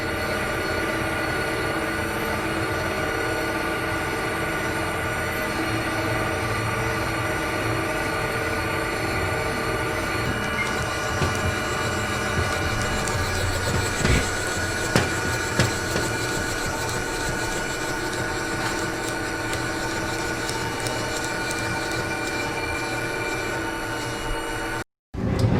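A lathe cutting metal at a slow feed rate, chips breaking as it goes: a loud, continuous grinding hum with shrill, squeal-like tones, steady for most of the stretch with a few brief clacks and a sudden stop at the end.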